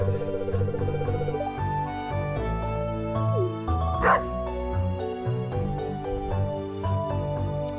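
A dog in the farming video game Stardew Valley barks in short repeated yips over looping game music, with little talk.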